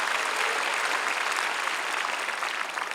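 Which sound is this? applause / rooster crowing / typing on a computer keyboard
applause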